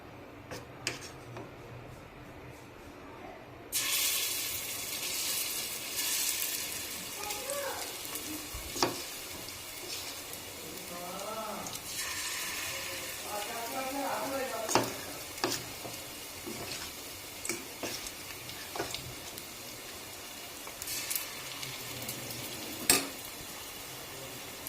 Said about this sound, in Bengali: তেলটা গরম হয়ে গেছে, এবার আমি ক্যাপসিকামগুলো দিয়ে দেবো এক এক করে।